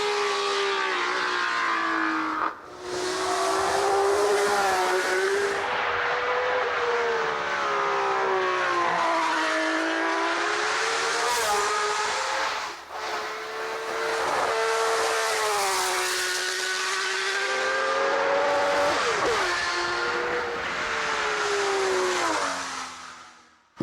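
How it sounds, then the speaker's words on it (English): A 1960s Honda V12 Formula One car races with a high, screaming engine note that rises and falls through gear changes for over twenty seconds. It is loud and close, with brief dips as it lifts off the throttle. "here he is at the wheel of a 1960s Honda V12 Formula One car"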